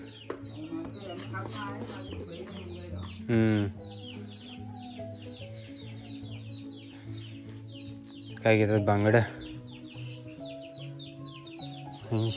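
Chickens cluck nearby in a Konkan village over a steady low hum, with a couple of louder bursts of clucking. A person speaks briefly.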